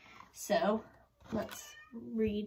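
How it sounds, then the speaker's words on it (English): A cat meows a few times close by, drawn-out and plaintive, while a person speaks briefly between the calls. "That's my cat meowing."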